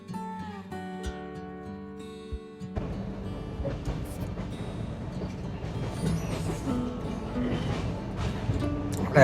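Inside a moving passenger train travelling through Odisha, a steady rumble of wheels and carriage noise builds after a brief quieter start with tonal hums, continuous and close.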